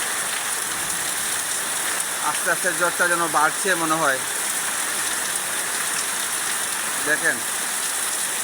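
Steady rain falls with a light breeze late in the Bengali year at the start of the monsoon, a constant hiss throughout while someone speaks briefly in the middle and again near the end.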